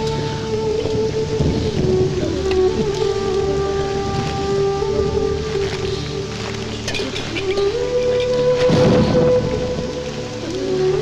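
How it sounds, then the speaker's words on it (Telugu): Heavy rain pours steadily with low rolling thunder in a Telugu film scene, a dense continuous hiss under a sustained musical tone, with no talking. "ఇప్పుడు అర్ధంతరగా ఈ వర్షం పట్టుకుంది"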